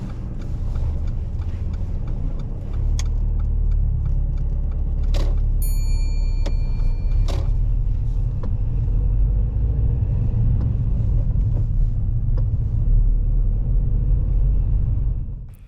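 A car pulling away during a driving lesson, its engine a low rumbling hum that swells slightly as it moves off, with a few faint clicks and mechanical ticks over the steady drone.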